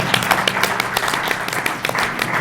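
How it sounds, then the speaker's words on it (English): An audience at an oral history panel claps in steady applause, dense and close, with distinct individual claps over the crowd. "I think we owe him a round of applause."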